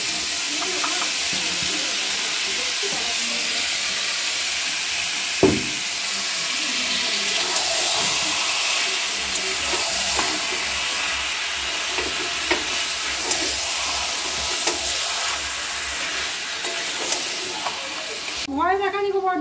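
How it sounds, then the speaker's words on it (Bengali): Mutton sizzles steadily in a pan while being stirred with tomato paste for a potato and goat meat curry, a loud continuous frying hiss with occasional scraping clinks of the spoon. "মাংসটা কষিয়ে নিই ভালো করে। টমেটোর পেস্ট দিয়ে দিই"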